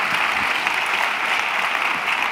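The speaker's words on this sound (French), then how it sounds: "merci de vos applaudissements" Audience applause in the Grand Kursaal hall in Besançon, a dense, steady clapping from a large crowd that fills the whole moment without any voices over it.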